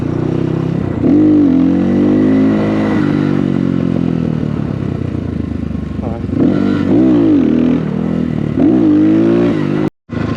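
A dirt bike engine revs and rises and falls repeatedly while a rider practises wheelies on a paved legal spot, loud and close, with a brief cut near the end.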